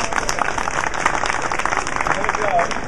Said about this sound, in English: let's please give Kip a real round of applause